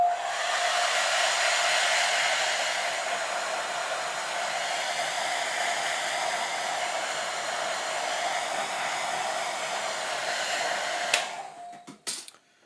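Hair dryer blowing steadily on a watercolor painting, loud and close, for about eleven seconds before switching off with a few clicks.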